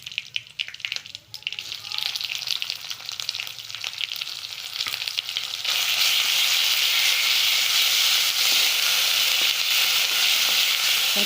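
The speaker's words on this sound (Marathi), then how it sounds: "आता कढीसाठी जो आपण मसाला बनवला आहे आपण तो चांगला परतून घ्यायचा आहे" Kadhi masala sautéing in a pan, a steady close sizzle and frying hiss that grows louder and denser partway through, with light stirring scrapes early on and no talk.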